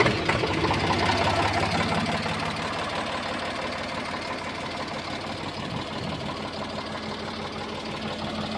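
An old Eicher 485 tractor with a 36-volt battery and self-start idles after starting, a steady knocking diesel chug with rapid even pulses, loud and close with no talk.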